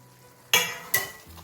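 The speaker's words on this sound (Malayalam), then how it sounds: "നല്ലതുപോലെ ഒരു 5 മിനിറ്റോളം നമ്മളിത് ഇളക്കി എടുക്കുകയാണ് ചെയ്യുന്നത്." Fried chilli chicken pieces tossed and stirred in a hot pan over high flame, two sharp scraping sizzle bursts close up, with quiet between them.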